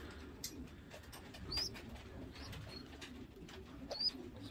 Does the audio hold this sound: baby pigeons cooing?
yes